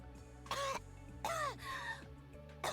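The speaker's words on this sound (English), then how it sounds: "coughing and waving her hand." A few sharp coughs, three or four bursts spaced irregularly, close and fairly quiet, with no talking.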